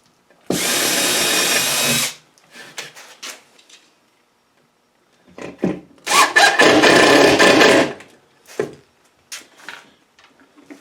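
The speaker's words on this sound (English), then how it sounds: "So I'm going to put a couple of holes in here and mount this regulator." A power drill bores holes in a workshop to mount an air regulator: two loud bursts of whirring, one early and one later, separated by quiet clattering and handling noises.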